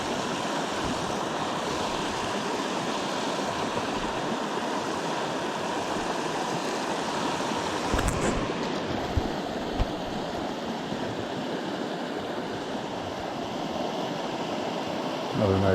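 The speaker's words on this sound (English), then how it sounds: "This is a brook" Brook in Yellowstone rushing steadily nearby, a continuous broadband hiss and gurgle of flowing water that stays even throughout, with a brief knock partway through.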